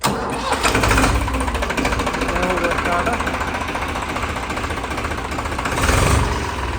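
A loud tractor engine, fitted with a Safari car's steering, cranks and catches, then settles into a steady, heavy chugging rumble right up close while people talk over it.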